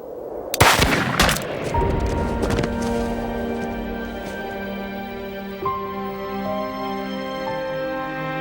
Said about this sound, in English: The fire of Burr took effect, and Hamilton almost instantly fell